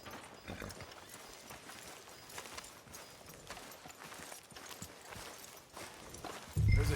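Horse hooves clip-clop at a steady walking pace in Red Dead Redemption II, a soft ongoing patter of hoofbeats behind a game soundscape with faint talk, ending in a louder low thump.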